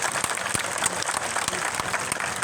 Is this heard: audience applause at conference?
yes